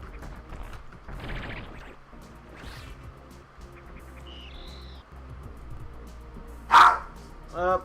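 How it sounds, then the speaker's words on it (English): A dog barks twice in the background, two sharp separate barks near the end, heard over game sound and occasional speech during a livestream. "Dog bark."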